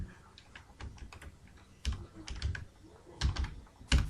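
Someone types on a computer keyboard while entering data in an Excel sheet: soft, irregular keystrokes in quick bursts, fairly quiet and close.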